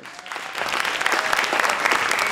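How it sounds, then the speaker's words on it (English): Conference audience applauding, a dense, steady burst of clapping that builds quickly and stays loud throughout, without speech over it. "I just want them to applaud you more"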